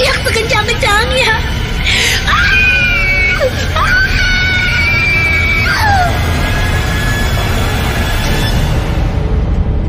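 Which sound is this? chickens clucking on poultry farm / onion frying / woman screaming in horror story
woman screaming in horror story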